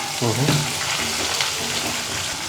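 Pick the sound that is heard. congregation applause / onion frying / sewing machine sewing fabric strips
onion frying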